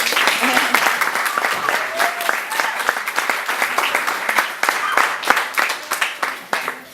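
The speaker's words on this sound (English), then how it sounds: "So we can give her a round of applause." An audience at a stage reading breaks into lively applause, with many sharp individual claps and a few scattered voices, close and loud throughout.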